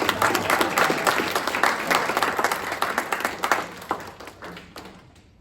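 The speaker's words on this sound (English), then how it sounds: "How about a round of applause for Anne Marie, our concert master?" Applause for the concert master at a musical theater workshop, dense close clapping that holds strong before thinning and fading out toward the end.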